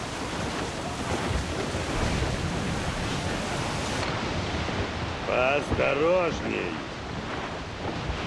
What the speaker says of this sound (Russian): Сплошная стена из воды. Не трусьте, ребята. Справимся. Море разбушевалось!